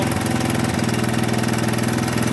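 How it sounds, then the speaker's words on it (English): A 1983 Honda ATC 200 engine idles fast and steady nearby, set too high at the carburetor idle screw, a constant buzzing throb with no pauses. "As you can tell, running at a pretty good speed, idling pretty high"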